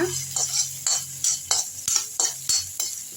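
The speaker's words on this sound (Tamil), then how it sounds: "வெங்காயம் வதக்கிறதுக்கு தான் இந்த சோம்பு சீரகமும் போட்டுடலாம் மிளகு போட்டுடலாம்" Onions fry in a pan with fennel seeds, cumin and pepper, sizzling softly while a metal spoon scrapes and stirs in repeated strokes, each one loud and close, about every half second.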